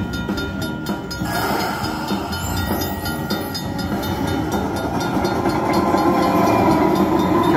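Train bonus sound effect from a Luxury Line Timber Wolf slot machine, a steady rumbling, clattering rail-like effect with hiss that swells gradually, alone without talk.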